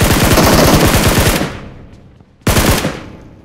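Automatic rifle fire in the mobile battle royale game PUBG Mobile, a loud, rapid burst that stops and rings out, then a second burst starts abruptly, close and dominant.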